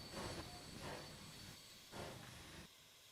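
A train rolls along in the Transport Fever 2 game, a steady hissing, rumbling run with a couple of swelling surges and a faint high whine, with no voices.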